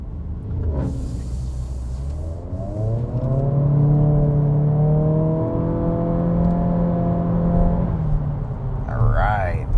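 Inside a 2026 Acura Integra A-Spec Tech in sport mode, the engine note climbs steadily in pitch as the car accelerates, a loud droning rise over road rumble that eases off near the end.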